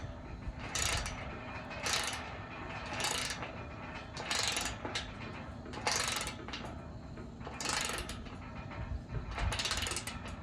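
A ratchet tightening a steel greenhouse frame part during construction, sounding as regular bursts of rapid clicking about once a second, close and fairly loud, without talking.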